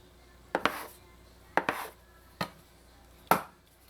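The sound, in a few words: knife cutting bun dough into pieces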